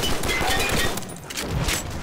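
Rapid gunfire in the zombies mode of Call of Duty: World at War on a custom map, a dense, continuous burst of shots and clatter sounding close and loud throughout.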